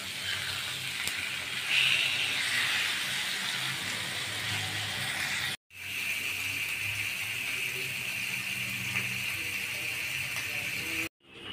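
Rohu fish frying in a pan, a steady broadband sizzle that runs nearly continuously and fairly close, broken by two brief drops to silence.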